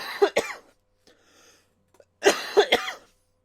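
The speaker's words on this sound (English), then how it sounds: "apologies for the cough there." A person coughs in two separate bursts close to the microphone, each made of a couple of sharp hacks, with near silence between them.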